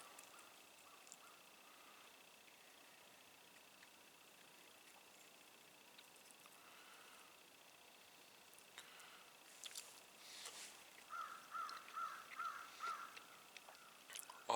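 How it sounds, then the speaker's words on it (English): Crows call outdoors around a yard, with a run of several evenly spaced caws rising in loudness toward the end over a quiet background with faint distant sounds. "All the sounds of these crows around"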